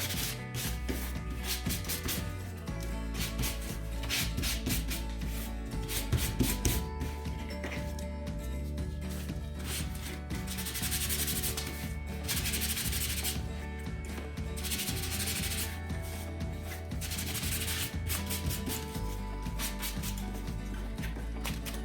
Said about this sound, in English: Sometimes it's easier just to hold the piece and hold the sandpaper and move the piece back and forth on it.